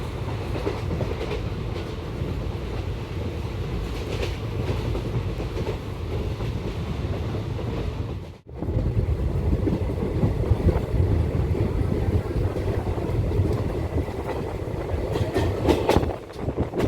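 The 13177 Sealdah-Jangipur Express runs toward Mahipal Road station with a loud, continuous rail roar and clickety-clack of wheels, briefly dropping out for a moment midway before resuming just as strongly.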